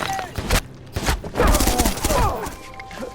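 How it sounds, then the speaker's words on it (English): Rapid gunfire from a film shootout as armed men close in on a surrounded area: dense bursts of shots and heavy thuds, loud and chaotic, with faint voices mixed in. "a shootout breaks out"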